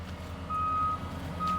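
A truck reversing on a horse riding arena construction site sounds its backup alarm, with two faint, steady high-pitched beeps over a low idling engine rumble.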